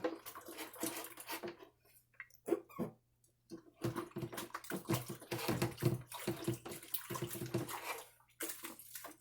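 Dirty skillet scrubbed under running water with dish soap, irregular splashing and scrubbing bursts with brief pauses, close by and moderately loud, no talking.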